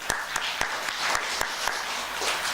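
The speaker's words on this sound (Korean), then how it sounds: "박수 한번 쳐주세요." Audience at a Buddhist dharma talk in a temple hall clapping, a soft continuous patter of applause with sharper individual claps standing out at intervals, no voices over it.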